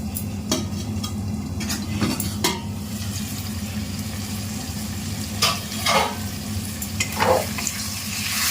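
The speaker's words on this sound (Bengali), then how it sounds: "চলো দেখি মশলা কেমন কষে।" Spiced masala for a mutton curry sautés in a pan, a low steady sizzle broken by intermittent scraping and clinking strokes of a spoon stirring.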